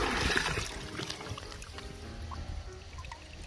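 Water sloshes and splashes steadily in a shallow river as a net is dragged along the bottom and pulled back up. The sound is close and continuous, with no talking.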